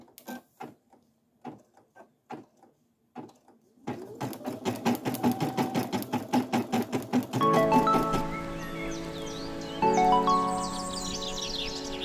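Brother SE1900 home embroidery machine: a few sparse ticks, then a rapid, steady stitching clatter that builds and continues with a whirring motor tone, close and alone.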